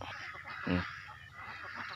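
A farm duck gives a single brief honking quack, faint and alone against a low background hum.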